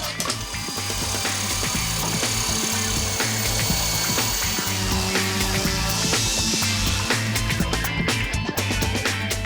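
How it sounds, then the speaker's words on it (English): A power sander runs continuously on tapered wooden plugs in a staircase, sanding them flush with a steady droning whine, close and loud, with scraping as the pad moves over the wood. "And then clean them up with the sander."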